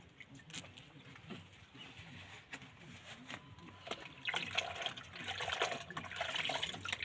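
Cold water splashes and trickles while a street food cart is washed down and wiped, faint irregular splashing that grows busier and louder toward the end, with no talk.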